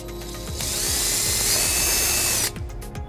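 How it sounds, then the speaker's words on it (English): A power drill whines steadily and loudly for about two seconds while boring a hole in a 2012 Volvo XC90 during trailer wiring harness installation, then cuts off. "So what we're first gonna do is drill the back hole."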